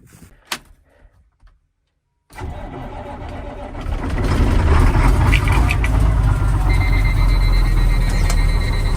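A farm truck engine cranks and fires after a quiet start with a few faint knocks, then settles into a loud, steady rumbling idle that runs to the end.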